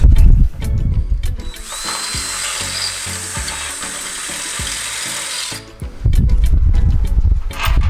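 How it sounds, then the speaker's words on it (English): A power drill whirs steadily for several seconds drilling out a hole in a custom rear suspension four-link, bracketed by louder mechanical grinding and clattering before and after. "I may need to drill that one out"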